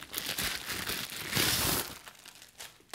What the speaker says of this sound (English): We take the bubble wrap out.